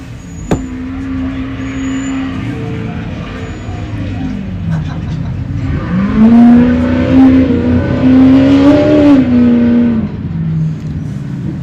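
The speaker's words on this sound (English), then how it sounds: "Here comes the 55 of Matthew Weiss across the elevated power sports start finish line." A Pro trophy truck engine at a desert race in Powell, Wyoming revs and accelerates loudly nearby, pitch rising and falling as it crosses the start-finish line while an announcer talks over it.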